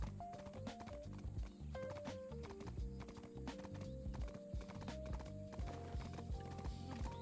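Horse hooves clip-clop steadily in Black Desert Online, a continuous rhythmic walking beat layered over busy game music, with an occasional whinny.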